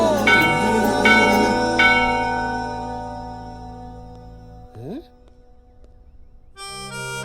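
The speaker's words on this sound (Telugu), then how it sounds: "సత్యం గుడిలో గంట కూడా మోగింది" A temple bell rings out in loud repeated strikes, with long metallic tones fading away before a brief sliding sound and a final bright chime.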